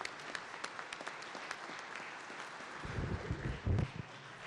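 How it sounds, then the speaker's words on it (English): Applause for guests seated in the gallery of a state legislature chamber, a steady crowd clapping that swells near the end, heard in a large room. "Could you stand and let us all give you a round of applause?"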